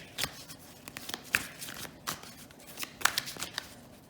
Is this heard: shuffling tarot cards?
yes